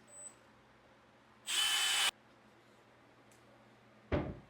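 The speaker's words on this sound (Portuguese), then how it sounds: "vou fazer a fixação utilizando o parafuso N para prender os puxadores" A power drill drives screws to fix handles onto kitchen cabinet doors in two short bursts, loud and close, with quiet pauses between.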